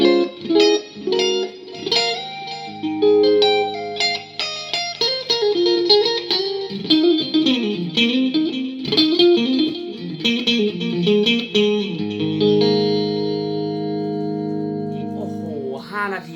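An electric guitar, a Fender Deluxe Stratocaster HSS through a MOOER GE-200 multi-effects unit, plays clean, ringing chords and single notes with chorus and reverb effects, close and fairly loud, with notes left to sustain at the end.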